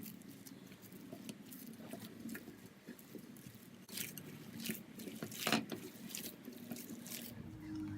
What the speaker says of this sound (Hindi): सब चीज़ें डाल दी, अब हम इसे अच्छे से मिक्स कर लेंगे।